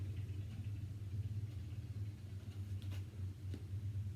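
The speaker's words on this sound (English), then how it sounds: "That's the neighbor's motorcycle." A neighbour's loud motorcycle engine rumbles steadily at a distance, a low droning growl that holds throughout with no speech.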